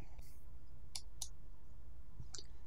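A few light, crisp mouse clicks on a computer, spaced apart and faint against a quiet room hum.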